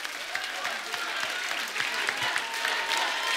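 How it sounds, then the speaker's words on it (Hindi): Studio audience on a comedy show clapping and cheering, a broad, steady wash of applause from a large crowd that carries on without a break, with a faint voice here and there. "टाइगर के लिए जोरदार तालियां।"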